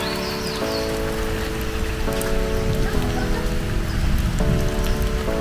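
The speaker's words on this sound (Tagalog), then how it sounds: "Malakas na yung ulan mga idol." Heavy rain pouring down at a nature park, a loud, steady, dense roar of drops hitting surfaces close by, with faint tonal background sounds and no talking.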